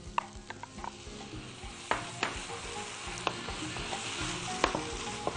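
Tomatoes stirred into hot ghee in a pan, with a steady sizzle and frying crackle throughout and several sharp utensil scrapes and knocks as the mixture is turned.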